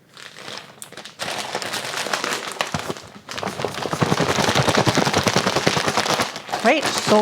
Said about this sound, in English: Just gonna throw all the beef in there and give it a good shake.